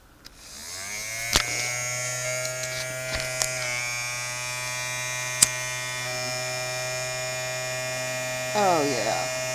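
A small smoker blower pump runs steadily, pushing air through a cold-smoking setup for cheese, giving a constant close electric buzz with a strong hum throughout.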